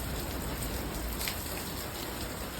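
Steady rain falls around a garden shed, a dense, even hiss of drops at constant moderate loudness throughout, with no voices.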